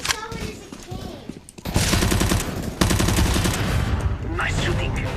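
Sustained rapid automatic gunfire in the video game CS:GO, loud and dense across most of the stretch, with voices talking over the shooting.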